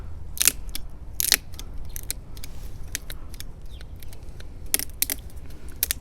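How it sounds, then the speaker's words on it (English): A ratcheting pruner cutting a branch in the garden, giving sharp, crisp snips and clicks at irregular intervals, several distinct loud cuts among quieter ratchet clicks and rustling. "So let's take our ratcheting pruner here."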